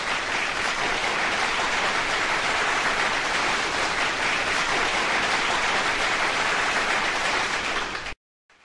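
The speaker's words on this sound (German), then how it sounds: "Ja, dieser Applaus ist natürlich alles nur für euch" Dense, sustained applause from a live show audience, loud and steady for about eight seconds before cutting off abruptly, with no voices on top.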